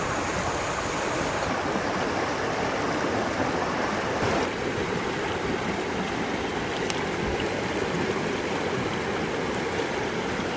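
Water rushes steadily over rocks in a mountain river near Almaty, Kazakhstan, in April, a constant loud burbling roar that fills the whole stretch without any voices.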